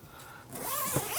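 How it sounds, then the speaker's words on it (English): A zipper is pulled open on a compartment of a Tesla Cybertruck CyberTent, a single quick rasping zip close by, rising slightly in loudness as it runs. "There's zippers here, so you can open things up"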